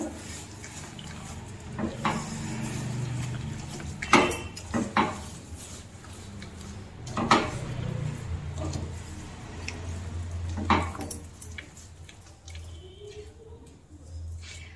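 A spoon scrapes and clinks in a pot as a suji barfi mixture of semolina, sugar, malai and crushed cardamom seeds is stirred, giving irregular close knocks and scrapes at a moderate level.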